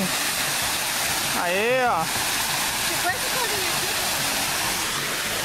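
A waterfall in a basalt park in Araraquara rushes with a loud, steady broadband roar throughout, while people shout and talk briefly over it.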